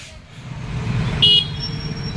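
At a jammed road junction near a collector's office, a short vehicle horn toot sounds through a low, steady rumble of idling cars and trucks.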